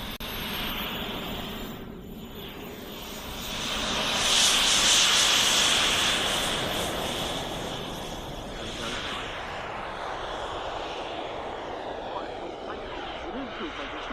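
Model airplane engine at an outdoor model airshow, a steady buzzing drone that swells in the middle as the plane runs along the runway, with wind hiss around it.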